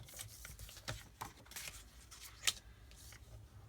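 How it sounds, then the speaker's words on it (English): Scissors trimming photos for a scrapbook layout, a series of soft snips and paper rustles at an uneven pace, close and fairly quiet. "when I'm cutting down photos"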